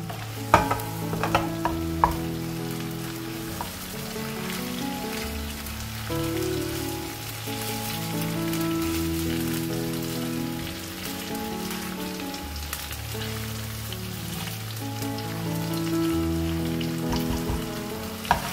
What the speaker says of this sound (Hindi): इसको हम अच्छा सा फ्राई कर लेंगे और आपने इसे हाई फ्लेम पे फ्राई करना है